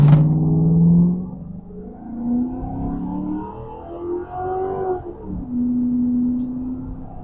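A 2002 Ford Crown Victoria with 241,000 miles accelerates hard from a standstill to 60 mph, its engine droning and rising in pitch through several shifts, heard from inside the cabin.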